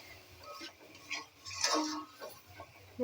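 Taro (kochu) stirred in a curry pot, with quiet close-up scrapes and light clinks of a utensil against the pot arriving in irregular strokes.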